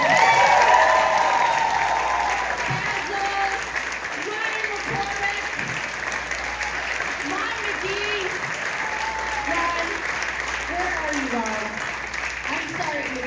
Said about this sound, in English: Can we have a round of applause for all the comedians tonight?